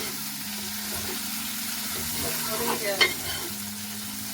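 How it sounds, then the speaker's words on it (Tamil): Steady frying sizzle of tomatoes with masala in a pan, with a few scraping stirs partway through, close and moderately loud, with no talking. "கலவையோட இந்த தக்காளி பழமும் சேர்ந்து நல்லா பொரிக்கணும்"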